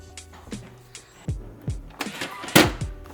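The pop-up headlights of an 80s/90s drift car move with a series of short electric motor whirs and clunks, about eight bursts in quick succession. They sound close, and the last one is the loudest.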